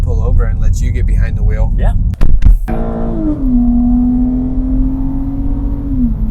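A BMW 328xi E9X with the N52 engine drones steadily while driving, a loud close exhaust tone that climbs briefly and then holds, with voices talking over the start.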